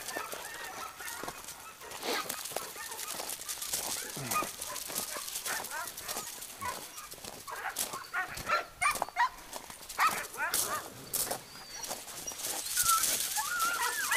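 Several dogs after training, heard as scattered yelps, barks and whines in quick irregular bursts, fairly faint, with brief human voices mixed in among them.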